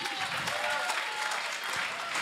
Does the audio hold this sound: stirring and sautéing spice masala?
no